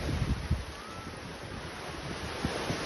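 Sea waves surge at high tide on Tithal beach, a soft wash with gusty wind buffeting the microphone and faint low thumps of breaking water.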